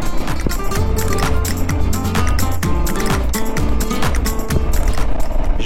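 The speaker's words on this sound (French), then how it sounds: "Là on sent quand même qu'on monte parce que la moto elle a vraiment du mal à repartir." A motorcycle engine labours to pull away on a climbing road in the Peruvian Andes at close range, with loud, rough, uneven low chugging and repeated bursts of throttle, continuous throughout with no voice over it.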